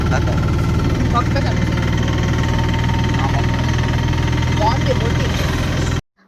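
A boat engine idles nearby with a steady, rough mechanical rumble, then cuts off abruptly near the end.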